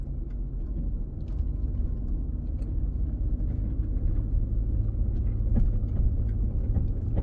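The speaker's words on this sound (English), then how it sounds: "No, car is not struggling at all." A car drives through deep water on a woodland track, giving a steady, loud low engine rumble with sloshing and scattered splashes throughout and no talking.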